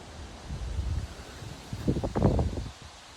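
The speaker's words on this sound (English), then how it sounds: "Windy but sunny." Wind gusting outdoors, low rumbling buffets against the microphone that swell and fade, with light rustling and no voices.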